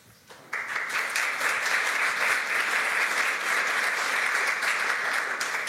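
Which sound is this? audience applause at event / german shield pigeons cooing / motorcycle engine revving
audience applause at event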